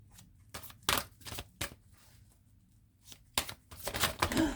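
Tarot cards are shuffled and drawn by hand in a quiet room: a series of close, crisp riffling and slapping bursts with short pauses between, ending in a denser flurry.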